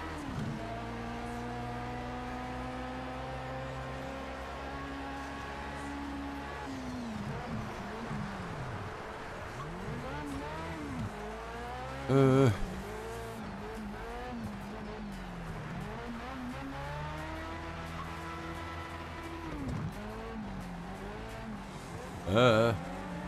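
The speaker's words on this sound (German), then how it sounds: "Dieses Rumgeschlitter." A race car slides across a snow track in Project Cars 3, its engine note rising and falling in sweeping pitch changes, with short bursts of skidding and tire scrub.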